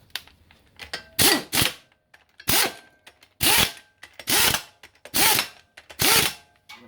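A hand ratchet with a non-impact socket tightening carburetor bolts on a Ford XC Fairmont 351 V8: repeated bursts of rapid clicking, each lasting about a third of a second, close and loud, with brief pauses between strokes.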